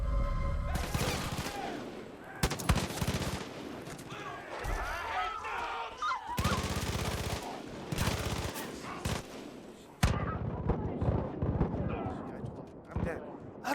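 Rifle gunfire in the Far Cry 5 video game, with repeated loud shots and bursts of fire spread through the stretch amid busy game effects, over a continuous backdrop of talk.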